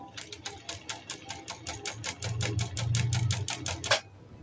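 A Janome L373 sewing machine stitches a straight seam, its needle tapping in a rapid, even run of clicks over a soft motor whir that rises midway and ends with a sharper clack, close and fairly quiet.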